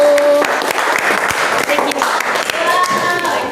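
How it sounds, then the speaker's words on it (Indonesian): Applause from students in a school classroom for a presenting group, a steady dense patter of clapping that runs throughout, with voices talking over it. "Ayo silahkan berdiri, beri aplaus dulu"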